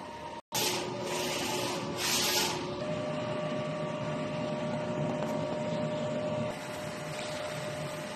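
A DTF printer running a nozzle test, a steady mechanical whir with soft rasping passes of the print head, close and continuous after a brief dropout.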